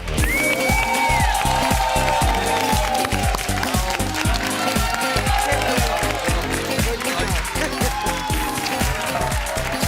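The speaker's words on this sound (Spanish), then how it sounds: "Un fuerte aplauso para Blanca Portillo y José Luis García Pérez" Audience applause for actors Blanca Portillo and José Luis García Pérez on a television show, dense clapping that runs continuously alongside loud music with a steady beat.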